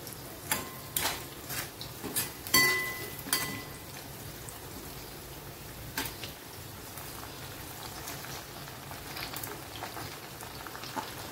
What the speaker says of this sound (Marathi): कडकडीत तेल तापून घ्या आणि त्याच्यामध्ये आता आपल्याला ते फ्राईज सोडायचे